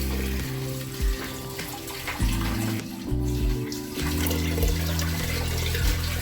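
Water pours steadily into a vessel of rice for ghee rice, a continuous gushing splash that stays close and fairly loud, with brief shifts in pitch as the vessel fills.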